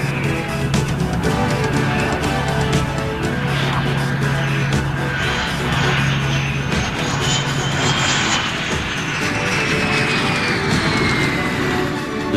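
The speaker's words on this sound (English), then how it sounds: "one of the test F-18s, all of which were identified by blue or red markings on the wingtips and nose section, was subjected to carrier landing and takeoff procedures" F/A-18 fighter jets from a 1989 RAAF trial run carrier-style landing and takeoff procedures on a land base, a loud, steady engine roar filling the whole stretch with a shifting whine rising and falling over it.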